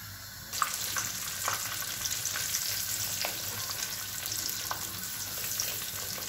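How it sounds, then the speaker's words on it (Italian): Eggplant slices fry in olive oil in a pan, a dense steady sizzle that starts abruptly and continues alone, with occasional soft clicks and pops of utensils. "iniziamo a friggere subito le nostre melanzane"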